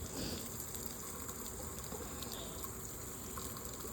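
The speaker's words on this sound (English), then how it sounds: "So I'm watering their peppermint plant." Water gushes steadily onto a peppermint plant set beside a pool, a continuous faint pouring and splashing with no pauses.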